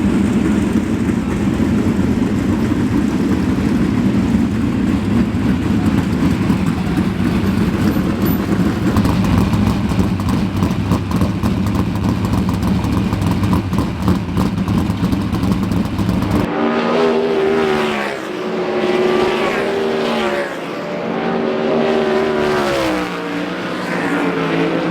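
Sprint cars roaring around a dirt track at the sprint car capital of the world, a loud continuous engine drone that shifts to pulsing, revving passes in the last stretch.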